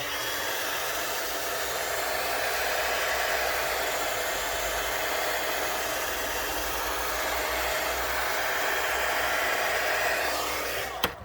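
A hair dryer blows steadily and loudly at close range for about eleven seconds, drying paint and gold on a journal page, then clicks off at the end; nobody speaks.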